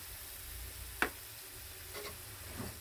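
Ground pork seasoned with pepper and fish sauce sizzles softly in a pan as it is stirred, one sharp clack of the utensil standing out above the quiet, steady frying hiss.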